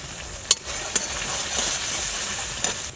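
Masala with cumin powder, capsicum, green chilli and chopped tomato sautéed in a pan for a cabbage dish, a continuous bright sizzle with a few sharp spatula clicks and scrapes against the pan.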